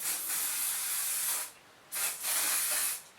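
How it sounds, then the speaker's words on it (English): Cheap Superdrug hairspray hisses from an aerosol can in two long bursts with a short pause between them, close and fairly loud. "I'm just going to spray it with some hairspray"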